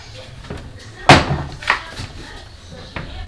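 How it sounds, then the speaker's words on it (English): A door is shut at home with one sharp, fairly loud slam. Quieter knocks and room noise surround it, and voices are faintly present. "shut the door."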